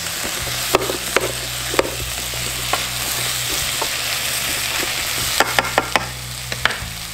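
Spicy taco filling fries in a hot pan with a continuous loud sizzle, punctuated by sharp clicks and scrapes of a utensil stirring, close up, no one speaking.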